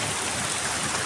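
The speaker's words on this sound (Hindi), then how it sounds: "काली घटाएं, रिमझिम और मूसलाधार बारिश" Heavy pre-monsoon rain pours down in Pakistan as a dense, steady, loud hiss of water with no pauses and no voices.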